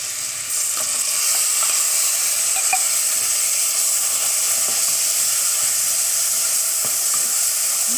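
Ginger garlic paste and ground shallots sizzle loudly in hot oil while mushroom biryani is cooked, a steady close hiss with a few soft stirring knocks, and no voices.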